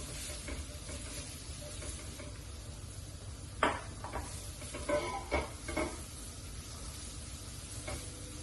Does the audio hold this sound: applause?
no